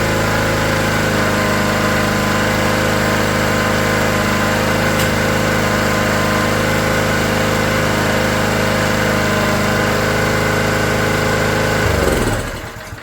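A Honda EG1400Z portable generator engine runs loud and steady at close range, a constant droning hum for about twelve seconds before it abruptly winds down and stalls.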